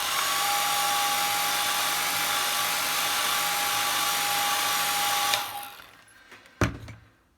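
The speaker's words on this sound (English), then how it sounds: "I'm just going to quickly dry that so it doesn't run with a hairdryer" A hairdryer blows steadily and loudly over wet watercolour paint on a pheasant's eye daffodil painting, a continuous whirring hum that cuts off near the end, followed by a few soft knocks and a sharp clack.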